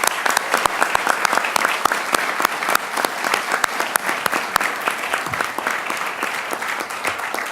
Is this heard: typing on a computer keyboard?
no